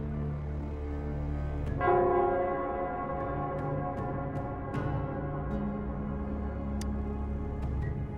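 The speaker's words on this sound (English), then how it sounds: "it's the Nell Squares bell." The Nell Squares bell ringing in the Wuthering Waves video game, a single resonant chime struck near the start that rings out and slowly decays over a low ambient drone, with faint light clicks later.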